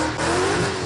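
Drift car sliding through a big powerslide, its tires squealing loudly and continuously over the roar of the engine for the whole second.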